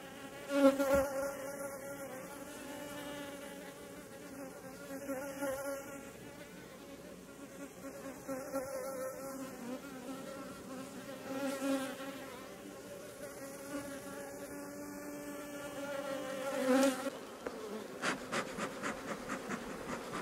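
Honey bees swarm over hive supers during a summer honey harvest, a dense continuous buzzing hum with wavering pitch, close and steady throughout with slight swells.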